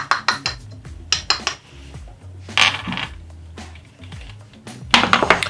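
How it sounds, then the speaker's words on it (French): Pectin X58 and sugar mixed by hand in a bowl: a run of sharp metallic clinks and scrapes of a utensil against the bowl, close and irregular, with short busy bursts separated by quieter pauses. "Je mélange la pectine X58 avec le sucre."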